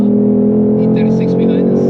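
A Ford Mustang Shelby GT500 powers uphill on the Nürburgring, its engine a loud, sustained drone from inside the cabin that holds steady with no clear rise in pitch, while people talk over it.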